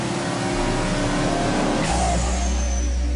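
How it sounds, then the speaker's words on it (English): A Ford F-150 EcoBoost engine roars continuously at full throttle on a dynamometer during an hour-long fatigue test, a dense, loud, steady drone that rises slightly in pitch partway through. "The engine fatigue test runs the engine for over an hour at full throttle."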